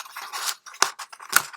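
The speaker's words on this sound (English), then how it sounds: "you can use scissors." Scissors snip through a strip of paper in three quick, crisp cuts spread over a second and a half, close and clear with no talking.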